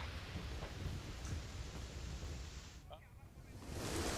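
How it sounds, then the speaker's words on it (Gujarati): Heavy monsoon rain falls on Ahmedabad as a dense, continuous roar of rain with rumbling undertones, swelling louder toward the end. "અમદાવાદ શહેરમાં વરસાદ થઈ રહ્યો છે."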